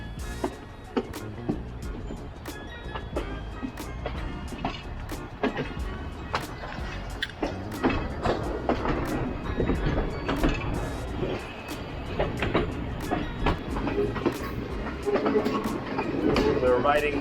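A passenger train runs through hill country on the Ella to Kandy line in Sri Lanka, with irregular clickety-clack wheel knocks and rattles over a low rumbling carriage noise, heard close and steady.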